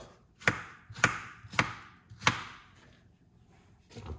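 A knife chops through a piece of cucumber on a cutting board, four crisp, evenly spaced cuts followed by a fainter fifth, close and distinct with no talking.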